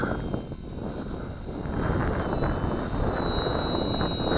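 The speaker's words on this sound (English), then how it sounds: "Cool airplane, huh?" A model airplane's engine, an XK DHC-2 A600 RC plane on a breezy day, buzzes continuously with a high-pitched whine, growing slightly louder as it passes, mixed with rushing wind noise.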